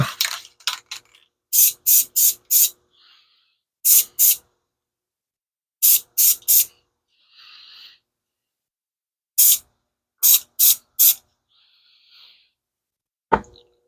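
Short bursts of spray from an aerosol paint can on a rifle, in quick clusters of two to four hisses separated by pauses, with a few softer hisses and a sharp click at the end.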